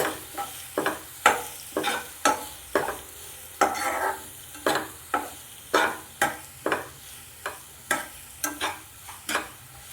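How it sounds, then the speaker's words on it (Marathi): Salted mixed vegetables sizzle in a frying pan while a spoon stirs them in a steady series of distinct scraping strokes, close and clear, with no talking. "याला परत एकदा छान मिक्स करून घ्यायचं आहे"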